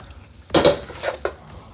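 A spoon briefly stirs honey into a barbecue sauce mixture, a couple of quick scraping clatters against a bowl, close and clear with no talking.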